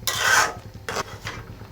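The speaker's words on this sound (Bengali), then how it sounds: "দেখেন আমি ডিমটাকে ভালো করে ফাটিয়ে নিচ্ছি।" An egg is cracked and beaten by hand for an egg curry: a long raspy scraping burst, then two shorter strokes, close and fairly quiet.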